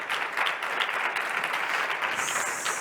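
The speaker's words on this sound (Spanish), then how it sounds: "Un aplauso, por favor, para los compañeros." Audience applause for the panelists at a rural talent round-table, a steady dense wash of clapping from a crowd that holds throughout, fairly close and alone without talk.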